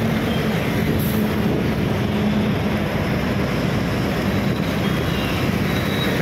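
Bangalore Yellow Line metro train heard from about half a kilometre away near Bommasandra, a steady broadband rumble with a low hum running throughout amid busy road traffic.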